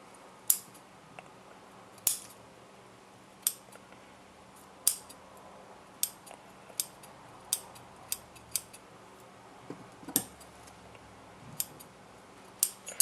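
Scissors cut through the black-coated wiring of a homemade fan in a series of about a dozen sharp, close snips at an irregular pace, with quiet pauses between them.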